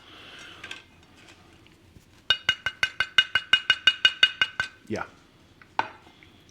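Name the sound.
low-carb chia seed tortilla chip crunching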